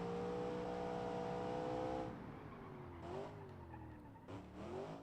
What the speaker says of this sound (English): This, by the way, has a screaming V8, as you can hear.